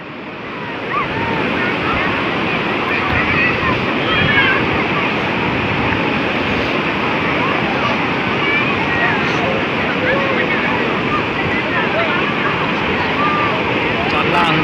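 Sea waves wash steadily onto Harihareshwar beach, a dense, continuous surf roar with wind buffeting the microphone, loud and close throughout.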